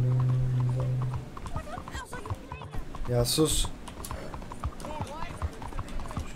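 Horse hooves clip-clop in the Red Dead Redemption video game, irregular steps mixed with keyboard typing and a brief whinny, all under a voice talking over the gameplay.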